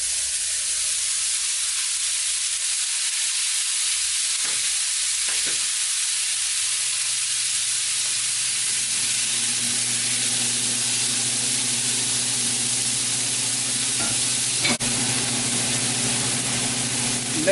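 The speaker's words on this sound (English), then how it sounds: "So what I'm going to do is to melt the fat on the frying pan. So it will be cooking with, the beef will be cooking with its own fat." Ground beef frying in its own melted fat in a frying pan, for Chilean stuffed potatoes: a steady, close broadband sizzle and hiss throughout, with a faint low bubbling and a couple of brief clinks.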